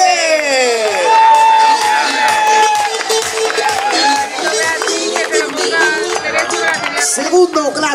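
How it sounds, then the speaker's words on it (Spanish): An audience at a dance championship final in Andalusia cheers and applauds to welcome the third-place finisher, with clapping and whoops rising over loud, bright music. "Fuerte aplauso para recibir a José Porcel Yeste de Baile"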